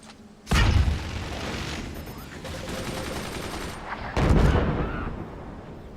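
Mortar fire in the video game Forts, two heavy booming shots with rumbling tails, each followed by a sustained roar of battle noise, loud and close.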